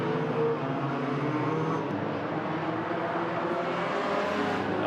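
Hornet race cars in an enduro on the Agassiz Speedway road course in BC, a steady loud roar of several engines running together for the whole stretch without a break.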